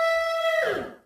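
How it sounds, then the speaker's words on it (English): Stretched-out Mario "Who" voice sample, a single sustained tonal note held for about half a second before smearing into a brighter, warbling tail that fades out, heard alone. "Now all we have left is the stretched out Who sound."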